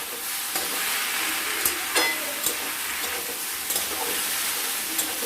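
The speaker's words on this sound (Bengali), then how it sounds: "দিয়ে এটাকে ভালো মতো করে নাড়াচাড়া করব" Fish curry being stirred in a pan after water is added, a steady bubbling sizzle with scattered soft scrapes and clinks of the spoon, close and moderately loud, no speech.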